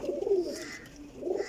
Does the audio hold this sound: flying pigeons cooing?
yes